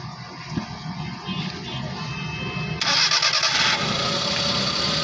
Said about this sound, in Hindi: ये गाड़ी स्टार्ट की